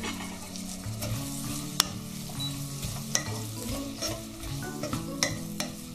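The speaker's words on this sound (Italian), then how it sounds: "adesso vado a mettere l'olio, ce ne vuole un bel po', e inizio a far rosolare la cipolla" Onion browns in a generous amount of oil in a pan, sizzling and frying in a steady close hiss, with occasional stirring clicks and scrapes, no voices.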